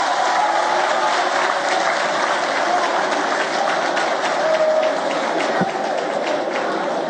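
Large audience at a student question session with President Emmanuel Macron applauding French soldiers, a loud continuous roar of clapping and crowd noise with no gaps.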